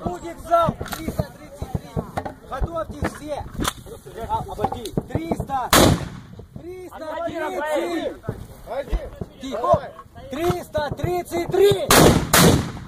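Mortar rounds fired one at a time by a crew in combat, heavy booming blasts at about six and twelve seconds with sharper gunfire cracks scattered throughout, under constant loud shouting and talk.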